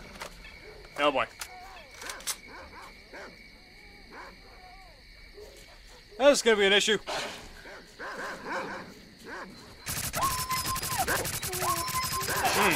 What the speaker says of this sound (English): Blind dogs.